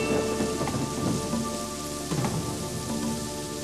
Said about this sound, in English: Shifting weather patterns brought torrential rain to the area